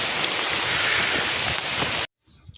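Rain pouring in the Atei Reserve Forest, a dense steady hiss of falling water for about two seconds before cutting off abruptly into near silence.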